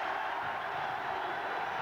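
Crowd at a college basketball arena during an Ohio State versus Michigan game, a dense steady roar of many voices heard from a distance with no single voice standing out.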